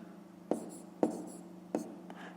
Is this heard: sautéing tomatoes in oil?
no